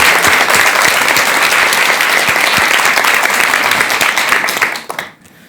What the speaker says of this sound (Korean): 큰 박수와 함께 법현 스님의 강연 지금부터 청해 들어보도록 하겠습니다